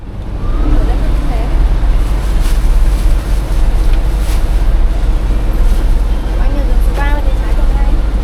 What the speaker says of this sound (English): And finally, my bus has arrived.